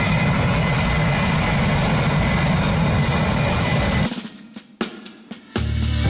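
Roar of a Blue Angels jet at a practice show in Pensacola, a loud sustained broadband blast for several seconds that cuts off abruptly, followed by quieter breaks and a return of the engine noise.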